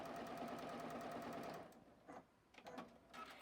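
A Juki sewing machine stitches wavy lines in a fast, steady whir, then slows and stops, leaving a few quieter short bursts of stitching.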